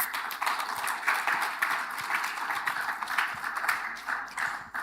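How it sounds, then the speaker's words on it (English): An audience at an agriculture science week and general assembly conference applauds steadily, a dense, even patter of many hands clapping that continues throughout at a moderate, slightly distant level. "I therefore want to thank you so much for the hands of applause"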